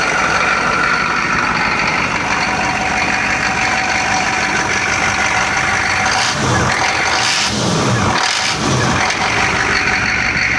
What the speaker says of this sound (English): Idle's a lot smoother, a lot healthier.